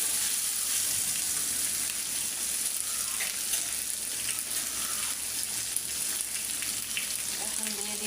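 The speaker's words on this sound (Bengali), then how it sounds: "আমি আলুটা কিছুক্ষণ ভাজিয়ে নিলাম।" Potato pieces fry in a pan during a five-vegetable dal preparation, giving a steady soft sizzle with light crackling and occasional faint stirring, heard fairly quietly and without talk.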